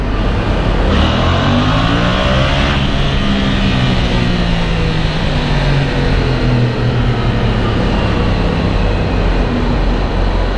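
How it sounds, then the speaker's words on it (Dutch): A Yamaha Tracer 700 GT motorcycle engine revs and accelerates, rising in pitch through gear changes, loud and close throughout with no talking. "De Tracer 700 maakt als je erop zit nog best een redelijk geluid"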